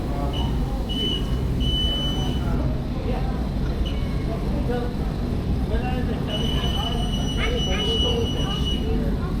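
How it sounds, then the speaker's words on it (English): High-pitched electronic beeps sound in short bursts, some long and some clipped, over a constant low rumble of machinery with voices in the background, at a model engineering exhibition at Moorside Mills. "that curious beeping sound you keep hearing"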